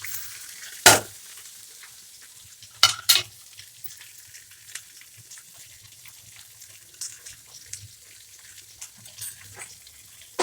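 Curry leaves crackle in hot oil for a papaya pachadi, then onion and green chilies go into the pan and fry; a few sharp loud pops and clatters stand out over a quiet, steady sizzle.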